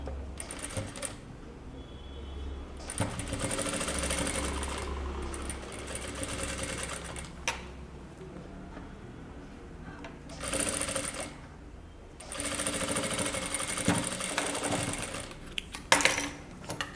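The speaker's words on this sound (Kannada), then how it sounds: "ಸೊ ಇವಾಗ ಸ್ಟಿಚ್ ಮಾಡೋಣ." Sewing machine stitching a kurta, its motor whirring in bursts of rapid stitching separated by short pauses, close and steady with faint clicks, no speech over it.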